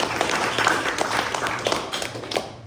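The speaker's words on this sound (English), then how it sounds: "I just want to have a round of applause for Kimber" Pub crowd clapping in a round of applause for Kimber, a dense continuous patter of many hands, fairly loud and close, with faint voices mixed in.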